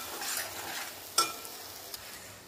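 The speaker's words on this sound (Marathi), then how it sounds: "आता हे मिक्स करून घेऊया. आणखी 2 मिनिटं आपल्याला ही पेस्ट भाजून घ्यायची." A gravy paste made with fresh milk cream is stirred and roasted in a pan, with a soft continuous sizzle, scraping strokes and a couple of sharper knocks of the spoon against the pan.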